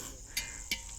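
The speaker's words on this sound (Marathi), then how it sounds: "बाहेर फक्त बाजूला रातखेड्यांचा आवाज येतो" Crickets at night in a farm field give two short, sharp chirps about a third of a second apart over a steady, faint insect drone.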